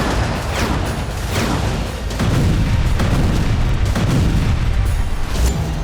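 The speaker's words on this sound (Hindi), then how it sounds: "बेहद छोटे नजर आने वाले ड्रोन से जबरदस्त धमाका हो रहा है।" Explosion from a Russian FPV drone strike in war footage, heavy booming rumbles rolling one after another with a louder, sustained blast in the second half, loud and close, with no talk.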